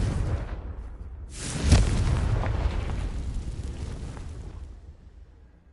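A Confringo blasting-spell explosion from Hogwarts Legacy: a loud, close fiery burst erupts after a brief low rumble, then spreads into a long crackling, roaring wash that slowly fades out over several seconds, with no talking.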